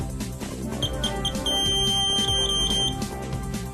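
Citizen CT-S2000 receipt printer sounding its error buzzer, a high-pitched repeating electronic beep pulsing over a busy mechanical background, fairly faint and alone with no voices.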